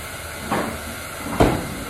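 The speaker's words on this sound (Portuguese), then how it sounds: "Deixar ele dar uma fritadinha enquanto a gente aguarda o alho" Garlic frying in a home kitchen pan gives a steady sizzling hiss, with two brief louder bursts of spatter.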